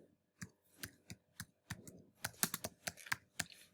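Typing on a computer keyboard: a close, crisp run of key clicks, sparse and uneven at first, then quicker and denser in a burst, with no talking.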